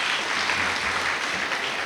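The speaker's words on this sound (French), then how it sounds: "je vous demande d'applaudir, Madame Diawara." A crowd at a festival opening ceremony applauds in a steady, dense wash of clapping that holds at an even level throughout, with no voices over it.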